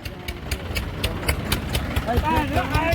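A tractor engine idles with a steady low throb while people talk loudly over it, near a trolley being loaded.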